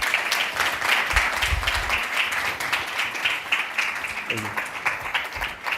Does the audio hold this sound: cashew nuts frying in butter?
no